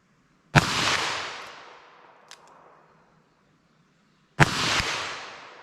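Two sharp handgun shots fired single action outdoors, a .22 Magnum or 9mm, each a loud crack followed by a long echoing decay, spaced about four seconds apart with no talking.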